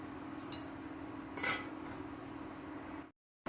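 A lid is set on a pot of steaming nylon sago (sabudana), giving one sharp metallic clink, then a softer shuffle, over a steady low kitchen hum.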